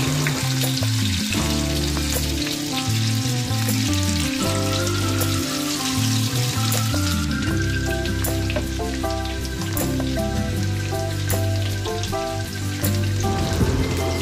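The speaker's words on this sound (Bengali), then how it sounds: "এবার দিয়ে দিলাম কুচানো পেঁয়াজ। পেঁয়াজটাকে খুব ভালো করে আমি ভেজে নেব।" Chopped onion frying in oil with whole garam masala of cinnamon, cardamom and cloves for a Bengali bhetki fish kalia. A dense, continuous sizzle runs under steady background music.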